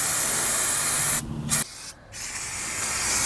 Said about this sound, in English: So let's spray it on the transmission here and just see,